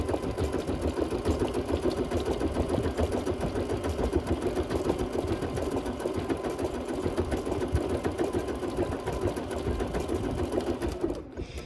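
A sewing machine runs steadily at speed stitching a wool pumpkin garland, a continuous close mechanical whir and rapid needle chatter that cuts off abruptly at the end.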